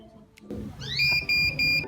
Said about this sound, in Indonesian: diberikan peringatan berupa buzzer pada alat yang akan berbunyi ketika waktu kurang 2 menit, seperti ini